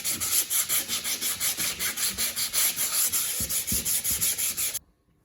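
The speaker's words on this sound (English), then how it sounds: "Once you have sanded all your edges, you can't sand too much, you can sand too little." Wood sanded by hand along the edges of a board, a steady back-and-forth rasping rub in even strokes, close and fairly loud, stopping abruptly near the end.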